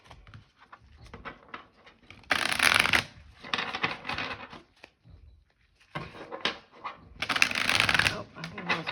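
A deck of playing cards is shuffled up close in two loud riffling bursts separated by softer handling and quiet gaps, with a person talking at times.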